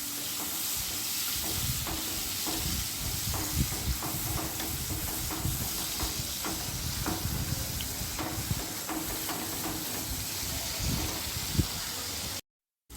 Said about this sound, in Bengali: মশলা ধোয়া জলটাও আমি একটু দিয়ে দিলাম, ওটা ফেলা ঠিক নয়। দিয়ে মশলাটাকে না আমি কষাতে থাকবো।